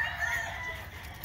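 A rooster crows at a farm where a bird is being haggled over for sale, the call held steady across the short stretch, fairly close and alone without talk.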